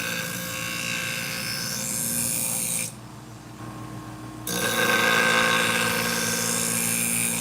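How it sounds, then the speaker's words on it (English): Scissor sharpening machine grinding the blades of sewing scissors with a steady whirring hum that drops out for about a second and a half midway, then returns slightly louder. "I think it's the best scissor sharpening machine out there once you learn how to use it."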